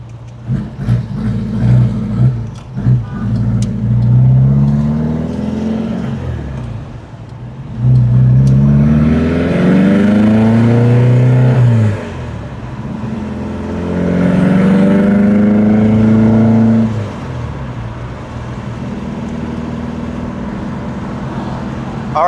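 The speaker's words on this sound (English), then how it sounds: "I'm going to get the vehicle up to speed and come right back." A Porsche 914 2.0 accelerates up to speed, its engine droning and rising through repeated gear pulls, with swelling revs and dips between shifts, heard loud from inside the car with road noise underneath.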